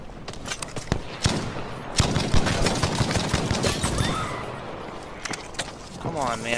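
Gunfire in a Firestorm battle-royale shooter match: a dense volley of sharp, loud shots in rapid bursts, with a few isolated cracks near the start and end, and a player talking over it.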